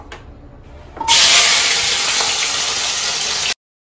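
Vegetables tipped into 3-4 spoons of hot oil set off a sudden loud, steady sizzle that holds for about two and a half seconds and then cuts off, with a quieter stretch of background before the burst.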